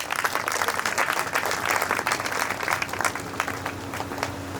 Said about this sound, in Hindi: ताली तो बजा दिया करो।